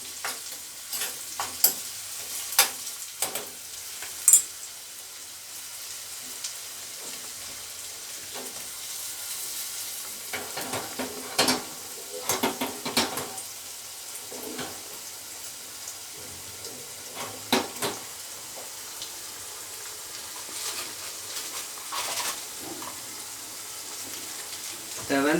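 Tempering for sarson ka saag, a spinach and mustard greens dish, frying on high heat while a spoon stirs it, with scattered scraping clatter over a soft steady sizzle.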